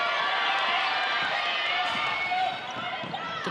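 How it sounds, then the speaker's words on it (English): Dense, roaring crowd noise fills a basketball arena during a WNBL women's game between the Canberra Capitals and Townsville Fire, a steady loud wash of cheering that eases slightly near the end. "You can hear the crowd. They are right in this contest."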